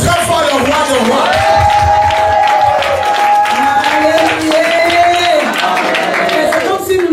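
A church congregation clapping and cheering loudly throughout, steady applause with shouts mixed in, while a sustained sung or chanted voice carries over the crowd.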